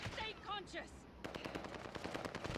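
Rapid automatic gunfire in Call of Duty: Modern Warfare, a fast string of sharp cracks after someone talks excitedly, loud and close.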